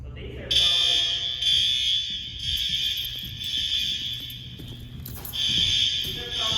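A newly installed school fire alarm system gives a loud, piercing high-pitched tone steadily during testing, cutting out briefly near the end before resuming, with low background rumble and faint voices.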